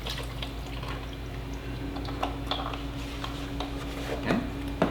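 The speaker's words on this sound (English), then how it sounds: "I'm only going to add 4 cups or 1 quart of chicken broth" Chicken broth pours into a pressure cooker with a soft, steady liquid splash and a few faint drips, fairly close and alone under a low background hum.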